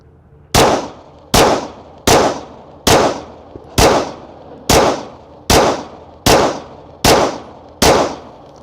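A Smith & Wesson M&P 9mm pistol fired at soda cans outdoors at a range: ten sharp, loud shots at an even pace of about one per second, each with a brief ringing decay, and no talking.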